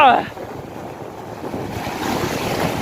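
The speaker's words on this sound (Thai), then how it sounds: "โอ้คลื่นโคตรแรงนะครับ" Strong waves wash onto the beach at Koh Larn, a steady roar of surf with gusting wind on the microphone; a short voice is heard at the very start.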